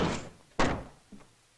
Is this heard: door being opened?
yes